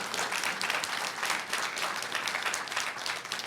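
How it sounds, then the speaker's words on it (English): A crowd at a school board reception breaks into continuous applause, dense and steady clapping from many hands for a few seconds. "let's get a round of applause"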